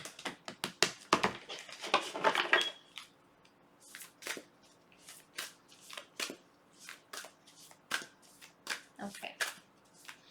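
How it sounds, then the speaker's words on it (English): Large oracle cards are shuffled by hand, a run of crisp riffling flutters and soft slaps in an irregular rhythm, close and fairly quiet, with a dense burst early on. "I'm going to pull some oracle cards to kind of just have a nice theme of the video"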